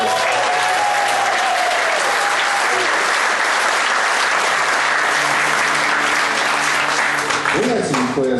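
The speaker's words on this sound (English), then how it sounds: "Give her another round of applause." Loud, sustained audience applause at a bluegrass concert, dense clapping from a large crowd that holds steady for several seconds before starting to thin near the end, with faint voices mixed in.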